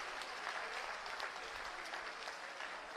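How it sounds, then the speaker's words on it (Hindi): An audience claps at the inauguration of a new academic block at a school in Maidan Garhi, Chhatarpur, producing continuous, fairly faint applause with a busy, crackling texture and no speech over it. "एक बार सभी हाथ ऊपर करके जोरदार तालियों से अभिनंदन करें और अपना अभिनंदन पहुंचाएं।"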